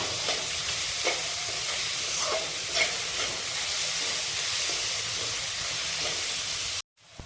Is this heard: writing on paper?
no